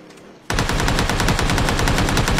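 Rapid, continuous bursts of automatic gunfire in PUBG erupt after a brief quiet moment, loud and close, rattling steadily to the end.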